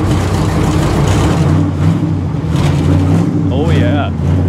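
A 1957 Chevy engine runs loud and close with a rough, throaty idle that surges now and then while people talk over it.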